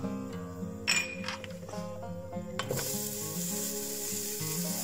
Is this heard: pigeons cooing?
no